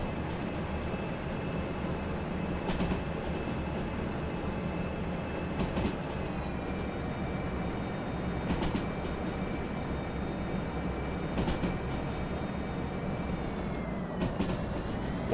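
A train in a railway simulator game runs at speed with a steady, loud rumble and rail clatter, a high electric whine holding over it and periodic clicks from the track, with no talking.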